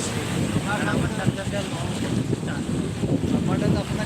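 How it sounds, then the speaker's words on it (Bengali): Strong wind over choppy, wavy river water aboard a boat, a constant loud rush of wind buffeting the microphone with engine and water noise beneath, and someone talking over it. "ভাই বাতাস আবার ছাড়ছে বুঝছেন প্রচুর বাতাস"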